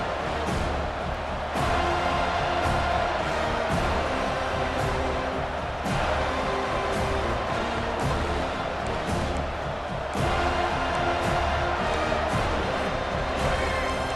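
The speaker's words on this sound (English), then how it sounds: "Decibels rising as the crowd gets behind this defense on 3rd down." A stadium crowd in the video game EA Sports College Football 25 roars in a constant, dense wash of cheering and noise, with sportscaster commentary faintly underneath.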